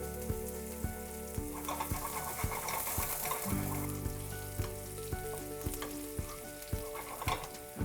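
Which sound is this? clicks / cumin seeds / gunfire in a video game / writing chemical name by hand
cumin seeds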